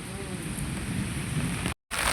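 Steady rainfall heard from a terrace hisses close by, with a patter on a surface and a brief dropout near the end.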